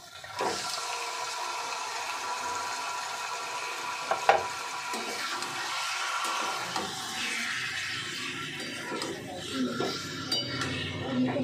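Chicken marinade goes into a pot over low flame and is stirred, a busy stretch of wet sloshing, scraping and metallic clinks of the utensil against the pot, close and continuous throughout.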